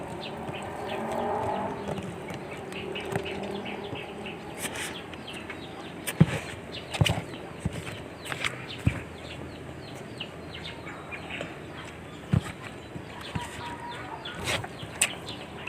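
Chickens cluck and other birds call in a yard during rain, scattered and moderately close, with sharp clicks and knocks breaking in now and then.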